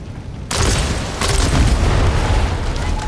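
A tank blown apart by an explosion in the video game Far Cry 6: after half a second of quiet, a sudden loud boom bursts in, with a second blast hit soon after and a long rumbling, crackling tail.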